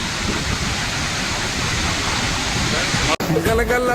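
Water roars through the opened gates of the Srisailam dam in a loud, continuous rush. The sound cuts out briefly near the end, and a voice seems to come in afterward.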